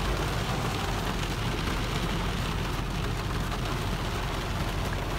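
Heavy rain pours steadily, a dense, even hiss of drops on surfaces that stays constant and fairly loud throughout, with no voices.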